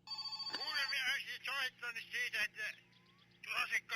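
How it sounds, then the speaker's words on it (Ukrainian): A telephone rings somewhere in a lakeside setting: a repeating bell-like trill runs through the clip. Someone speaks over it at close range, and the ringing continues between his words. "Хто там дзвонить?"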